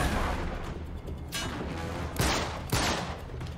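Gunfire in the action game Uncharted 3: Drake's Deception, a close, noisy exchange of shots with a few sharp loud cracks standing out over a rumbling battle background.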